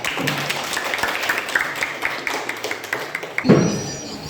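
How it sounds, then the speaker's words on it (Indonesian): Classroom applause for a student group about to present, a light patter of clapping from a small class lasting a few seconds, fairly soft and steady, ending with a louder thump. "Tepuk tangan untuk kelompok 1."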